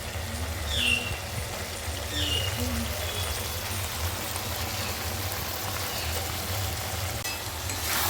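Malabar spinach stems with a pinch of sugar stir-fried in a pan for a chorchori, a steady close sizzle and hiss running unbroken as the moisture cooks off.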